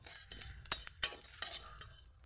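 Ginger and cumin frying in a kadai until the ginger turns light brown, with a soft sizzle under about five sharp spatula scrapes and clinks spread unevenly across the stretch.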